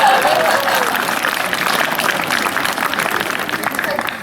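Dense crowd applause at an outdoor geocaching mega event, the Geojaanipäev 2016 in Estonia, steady and sustained throughout with a few scattered voices and cheers mixed in.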